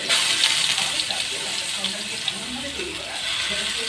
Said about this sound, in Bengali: তেলে আমরা আলুগুলো ছেড়ে দেব।